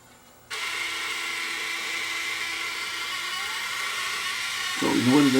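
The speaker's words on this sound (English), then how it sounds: "Now, is it capstan motor or what's making that racket?" A Sony DSR11 DVCAM video deck with a suspected faulty capstan motor starts up with a sudden, steady high-pitched whirring racket that holds on and then grows rougher and louder near the end.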